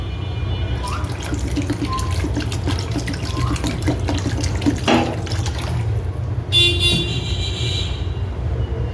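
Water pours steadily into a pot of beef nehari, making a continuous gushing, splashing rush throughout, with a brief brighter splash near the end.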